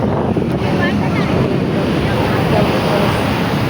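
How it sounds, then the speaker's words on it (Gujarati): Sea waves roll in at the shore near Porbandar, a steady rushing wash buffeted by wind noise across the mic, loud and continuous with no distinct break. "દરિયાના એકદમ મસ્ત મોજા જોવાની મજા આવે છે"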